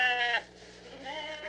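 Sheep bleating in a played film clip, one clear bleat followed by a softer, fainter call.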